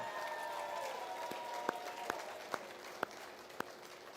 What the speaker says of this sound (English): let's give every one of these kids a big, big round of applause for doing a great job